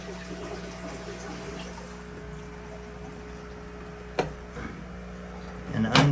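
A small water pump with its intake clogged by debris hums steadily with a low tonal drone and faint trickling, then a sharp click and clatter as it is handled near the end; a voice speaks briefly over it.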